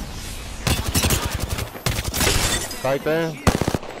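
Bursts of rapid automatic gunfire crackle in an Apex Legends match on the Broken Moon map, repeated in short volleys, with a player talking over and between the shots.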